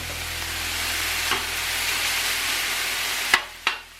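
Lap cheong fried rice with soy sauce and salt fries in a pan, a steady close sizzle running throughout, broken near the end by a couple of sharp clanks of a utensil against the pan.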